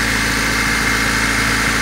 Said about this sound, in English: After many fixes and many leaks, and many adjustments, the engine does run, and it's running well